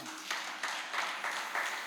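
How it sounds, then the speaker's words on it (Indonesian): A church congregation claps along in a steady applause, a soft broadband patter with a few louder rhythmic swells, heard at moderate distance in a worship hall. "Beri tepuk tangan ya."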